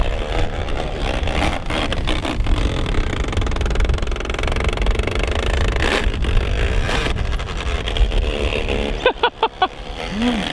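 A Traxxas XRT 8S RC truggy with stripped gears runs hard, a loud continuous buzzing engine-like whine with a raspy, rotary-engine character, shifting pitch and ending in a few short bursts.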